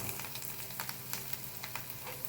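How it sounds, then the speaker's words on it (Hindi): Coriander and green chillies fry in a pan, giving a soft, steady crackle with small popping sizzles throughout, faint and without talk. "इसे मैं थोड़ा फ्राई कर लूँगी।"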